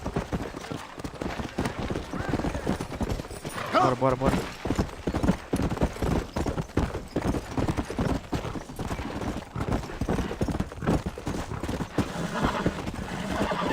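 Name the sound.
horse galloping in a video game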